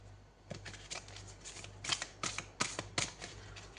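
Tarot cards being handled and shuffled nearby, a run of quick papery riffles and flicks that grows busier and louder toward the end, with no talk over it.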